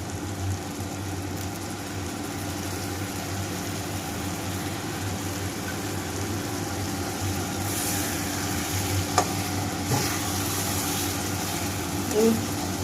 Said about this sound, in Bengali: এবার এটা খুব ভালো করে কষবো।